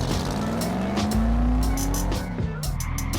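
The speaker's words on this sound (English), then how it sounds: "Roger Dodger spins and loses pace on turn 1" Race cars at the start of a race, engines roaring and revving up with rising pitch, tires squealing as the pack accelerates close by.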